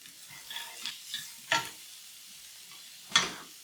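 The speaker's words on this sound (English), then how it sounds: "We're going to add our spices and the garlic. We mix well." Spices and garlic being stirred into beans in a pan: a soft, low sizzle with a few light scrapes and two sharper clinks of the spoon against the pan, nearby and fairly quiet.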